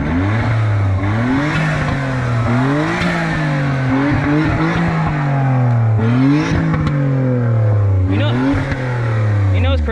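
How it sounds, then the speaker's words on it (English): A Suzuki Alto's small engine is revved repeatedly, loud and close, its pitch climbing and dropping in several sweeping surges over a steady idle, with people talking faintly under it. "Rev it one more time."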